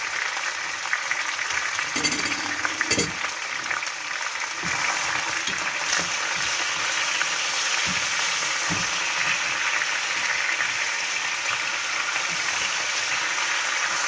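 Meat browns in a hot pan for Algerian rechta, a continuous loud, even sizzle and hiss that carries on at close range with a few faint knocks and no talking.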